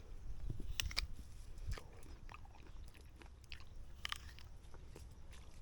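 Someone bites and chews a small, wormy apple picked in an orchard, giving close, crisp crunches and wet chewing in irregular bursts with no talking.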